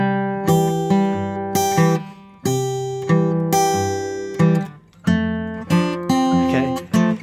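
A close, clear acoustic guitar plays a fingerpicked blues passage, with a steady run of ringing plucked notes and bass, no talking.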